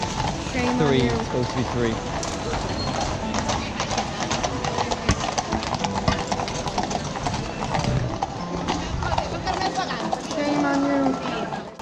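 Horses' hooves clip-clop steadily through a march at an outdoor event in Barcelona, with a rhythmic stream of hoofbeats running under a crowd's chatter and a person talking nearby.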